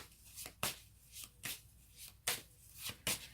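Tarot cards are shuffled by hand in quiet rhythmic bursts, several soft riffles and slaps about every half second, close and faint with no talking.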